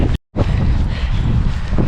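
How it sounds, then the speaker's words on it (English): Strong gusty wind in wet, cold weather buffets a microphone during an ultramarathon training run, with a low rumble, briefly cutting out before roaring back steadily. "It's wet and cold and windy."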